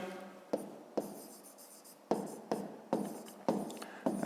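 Pen or pencil writing by hand on paper during a fifth-grade maths exercise, with a series of sharp strokes and taps recurring every half second or so amid scratchy scribbling, close and clear with no talking.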